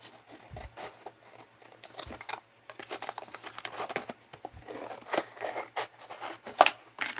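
Scissors cut paper for an art journal in a run of close, crisp snips and rustles, irregular and fairly quiet, with paper crinkling between the cuts.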